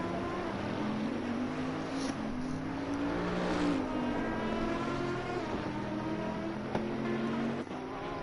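GT3 race car engine in a racing video game, droning steadily as the car pulls out of the pit lane, pitch rising and falling through gear changes, with a brief click near the end.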